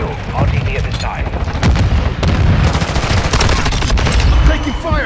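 Heavy, continuous gunfire and booming blasts in Call of Duty Modern Warfare 2 multiplayer, loud and close, with voices talking over the shooting.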